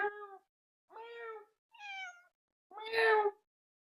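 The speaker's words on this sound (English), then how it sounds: "what's Kitty got to say about this? I don't know. I brought it over. Meow" A cat meows four times in a row, clear and close, each call a bit longer, the last one loudest.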